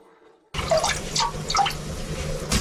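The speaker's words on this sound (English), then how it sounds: "Now, I'll add water so that all of the jars are completely submerged." Water is poured into a large pot to submerge home canning jars, with bubbly splashing and gurgling that starts abruptly after a quiet moment and continues steadily close by.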